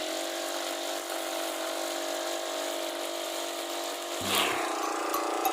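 A Honda 4-stroke grass cutter runs with a steady, close engine drone and no talking, swelling briefly louder near the end.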